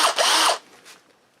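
Power drill boring a hole during motorcycle fabrication work, one short loud burst of high whine lasting about half a second, then spinning down, close up with no talk.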